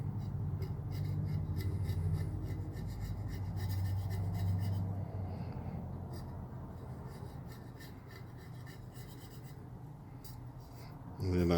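Excess red glitter is rubbed by hand off a Valentine's Day tumbler, a soft continuous scratchy rubbing close by with faint intermittent scraping throughout.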